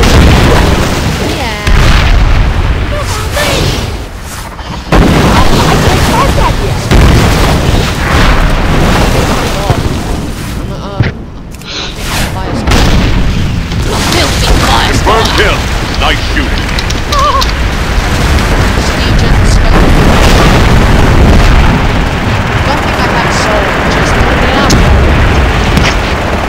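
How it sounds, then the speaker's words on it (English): Torpedo rockets hit ships in World of Warcraft with loud, dense booms and bursting explosions that roll on almost without a break, while a voice speaks over the din. "Use your torpedo rockets on those ships."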